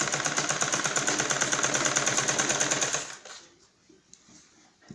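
Sewing machine running a straight line of stitching to attach piping on a blouse, a loud steady rapid whir and clatter for about three seconds before stopping, leaving faint handling noises.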